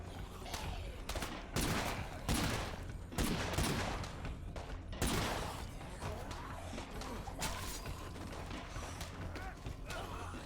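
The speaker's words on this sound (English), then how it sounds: "This police vulture gun is loud and super expensive, but it's really fun to shoot for some reason." Rapid bursts of loud gunfire from a police vulture gun in the video game State of Decay 2, with sharp repeated shots and crashing hits throughout, dense and close.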